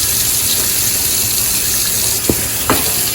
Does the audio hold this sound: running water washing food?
yes